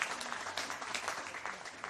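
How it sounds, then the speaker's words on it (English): Home supporters applaud at a women's football match in a stadium, scattered clapping from a modest crowd heard at a distance, steady and light throughout. "Applause all round from the Manly faithful"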